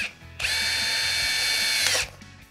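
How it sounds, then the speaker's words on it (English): A small power drill whines steadily for about a second and a half as it bores a hole into the plastic casing of a DPC 14 850c e-bike display, starting and stopping abruptly, close up. "drill a hole just above where there's a little symbol for a rubbish bin"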